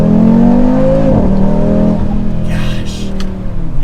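A 2024 Audi RS3 accelerates hard, its engine note loud and close, rising in pitch through gear changes, with a shift near the middle and continued pull afterward.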